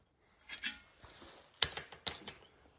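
A small metal washer drops during a wheel bearing job, making two quick, bright metallic clinks as it lands and bounces, with soft faint handling noises before them.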